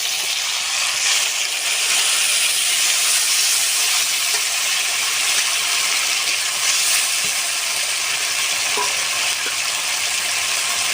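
Ground spice paste sizzles in hot oil with bay leaves, whole garam masala and chopped onion, for a dish of young jackfruit and chicken stomach; a loud, steady frying hiss fills the whole stretch with faint stirring underneath.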